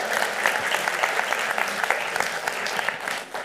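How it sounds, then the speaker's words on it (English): Energetic crowd applause at a dance studio business seminar, attendees clapping for themselves, dense and close with scattered sharp individual claps over a steady wash. "Let's give ourselves a round of applause."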